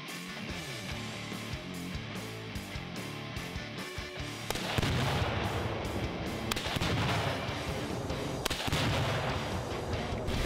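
Rifle fire at a Tannerite exploding target, with loud, rough blasts and booms that fill the clip and a stronger, denser burst midway, heavy and reverberant outdoors.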